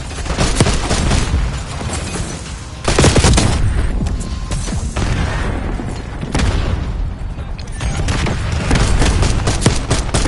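Impact grenade blasts and heavy gunfire in a military video game, a dense, loud barrage of booms and rapid shots with louder bursts throughout and no voices over it.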